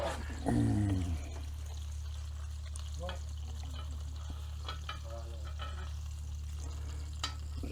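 Sausages and minted lamb kebabs sizzle quietly on an Ooni Grizzler plate under a low steady hum, with a brief voice and faint crackles and clinks scattered through the stretch.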